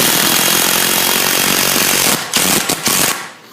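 A power drill drives a screw into a shed's top plate, a loud, rough, continuous grinding whir that breaks into a few short stuttering bursts before stopping.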